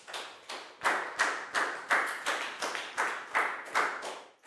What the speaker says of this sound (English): a big round of applause for Chew